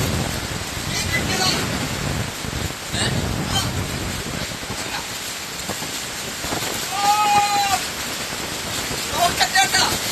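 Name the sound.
rain and wind outdoors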